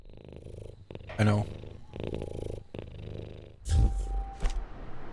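A cat purrs in the video game We Harvest Shadows, a low rumbling purr that comes and goes in bursts under and between a person's talk.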